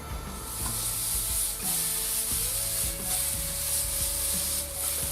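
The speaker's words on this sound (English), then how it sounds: "Use a dry frying pan, maximum heat. Add the bacon." Bacon sizzles in a dry frying pan on maximum heat: a steady, close, bright hiss with periodic scraping stirs and small crackles, no voices.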